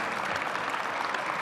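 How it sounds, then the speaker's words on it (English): Steady audience applause at a ribbon-cutting for the new UBS Arena in Elmont, a dense even patter of many hands clapping at once, held fairly far off and at low level without a break. "Let's give that a round of applause by itself there alone."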